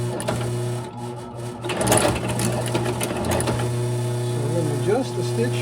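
A sewing machine runs in rapid mechanical bursts while stitching an alligator-leather Polo Ralph Lauren shoe during a refurbishment. The stitching is close and clear, with a brief pause in between and someone speaking over it.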